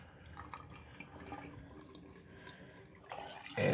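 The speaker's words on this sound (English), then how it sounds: "I'm going to drain the rest of this down here" Contaminated drinking water trickles and gurgles steadily down a drain at low level, with a louder splash of running water near the end.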